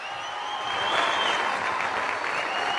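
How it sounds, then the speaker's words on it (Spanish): Sustained, full applause from a live show audience swells slightly and holds steady, a broad continuous roar of clapping with a faint tonal hum running underneath. "Renovado aplauso, interminable aplauso para el más grande"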